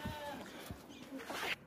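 A two-tooth sacrificial goat gives short, faint bleats amid quiet background noise, with a louder wavering cry near the end.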